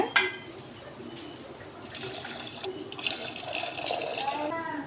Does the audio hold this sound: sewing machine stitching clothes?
no